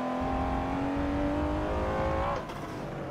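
A race car engine in a driving game holds a steady rising drone, then drops sharply as the gear changes near the end, loud and close with no talking.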